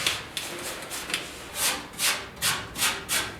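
Palm sander with 80-grit paper working body filler on a 1956 Mercury, a rough rasping scrape that settles into a regular rhythm of about five even strokes, close and fairly quiet, with no voices.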